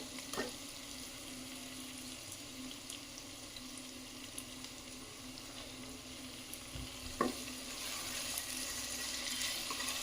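Ginger garlic paste frying in a pan with sautéed onions, a steady close sizzle with a few sharp clinks of a spoon against the pan, the sizzle growing slightly louder toward the end.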